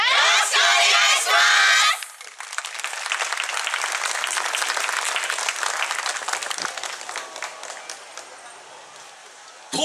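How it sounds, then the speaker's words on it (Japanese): Audience at a yosakoi dance festival in Tokyo breaks into applause and cheering after a loud shouted call from the dance team, the crowd's clapping and whoops running steadily for several seconds before thinning out. "ご声援手拍子よろしくお願いします"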